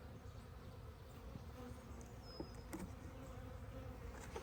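A swarm of bees buzzes around a hive after a capture, a faint, even, continuous hum in quiet outdoor surroundings with no voices.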